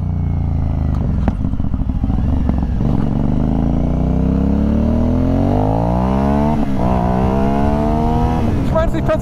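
Motorcycle ride close up as the rider accelerates to overtake a Toyota car: a loud, continuous engine roar rising in pitch through the gears, with wind rush throughout.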